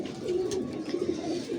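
A pigeon of a prized fancy breed coos softly in a short, low, rolling burble, faint and close, with no talk over it.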